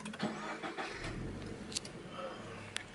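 A Toyota GT86 sports car's engine being started with a push button, giving a short cranking burst and then a steady, fairly close running rumble with a couple of faint clicks.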